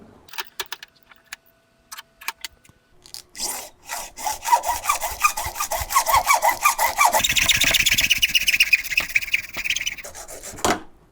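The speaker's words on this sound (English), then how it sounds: "And I'll do that using my hacksaw and holding it with the vise." A hacksaw cutting PVC pipe clamped in a vise, rapid back-and-forth rasping strokes that build into a steady fast rhythm, close and loud with no talk.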